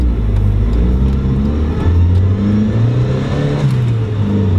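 A turbocharged Mazda Miata accelerates hard in second gear in cold weather, its engine droning loud and close as revs climb steadily, with a slight dip mid-pull.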